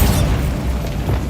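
A Bombarda spell detonates in Hogwarts Legacy, a loud, close, rumbling boom that fills the short moment with heavy low-end noise and no clear decay.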